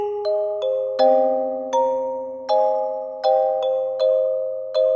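Kalimba processed through the AudioThings Gong Amp plugin, playing a slow moody melody of plucked metallic notes with long ringing, gong-like decays, about a dozen strikes, clear and upfront.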